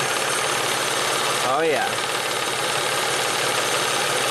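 A warmed-up car engine idles with a worn, oil-starved timing belt tensioner, a steady close rattling hum; someone speaks briefly partway through.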